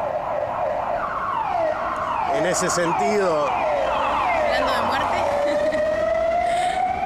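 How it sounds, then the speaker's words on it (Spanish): A wailing siren rises and falls continuously, loud and close, while people talk over it. "esa es una ambulancia con alguna urgencia."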